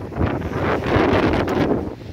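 Strong wind gusts on a windy, rainy day, a loud, broad roar buffeting close against the microphone and rising and falling over two seconds with no talk.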